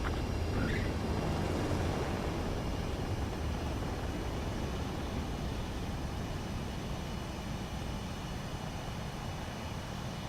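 Jet aircraft landing in Ace Combat 7, a steady broad roar of engine and rushing air that holds evenly throughout, fairly distant and without talk.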